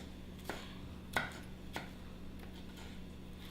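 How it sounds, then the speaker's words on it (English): A knife slices fresh habanero peppers into thin slivers on a cutting board. Three or four sparse, crisp taps land close by and fairly quiet, over a steady low hum. "I'm gonna cut them into little slivers and add them into the marinade"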